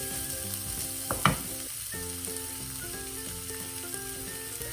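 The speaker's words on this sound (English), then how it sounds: "Keep on roasting for 1-2 minutes, stirring in between." Potatoes and aubergine for an Indian curry roast in an uncovered pan over a medium flame, giving a steady soft sizzle with a few clinks and scrapes of stirring partway through.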